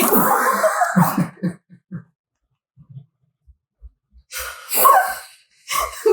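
A single loud sneeze bursts out at the start, followed by quiet breathing, small thumps and then brief voices talking.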